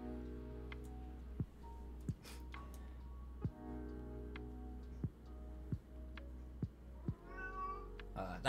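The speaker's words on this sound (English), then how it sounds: "That's a cat, by the way, in the background." A cat in the background lets out faint, drawn-out meows and yowls, repeated every second or so, over a quiet steady hum with light ticking.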